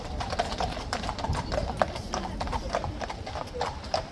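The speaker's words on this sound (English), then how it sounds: "Spectacular horses." Hooves of police horses in riot gear clip-clop on pavement at Horse Guards in an uneven, overlapping rhythm from several horses nearby, with a person talking over them.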